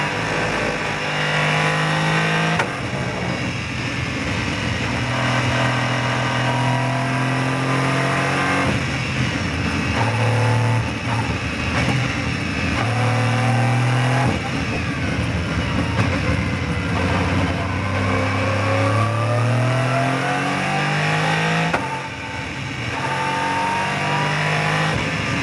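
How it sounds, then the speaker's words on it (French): Race car on a circuit, GT3 or TCR class, engine heard from inside with repeated revving climbs through the gears and drops on downshifts, loud and continuous throughout. "tu as une voiture de course donc les mètres tu les parcours vraiment très vite"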